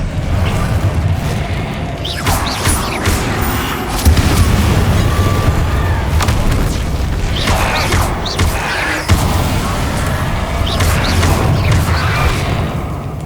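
Confringo blasting spells firing in Hogwarts Legacy, several booming explosive bursts with whooshing tails spaced a few seconds apart over a constant rumbling game backdrop.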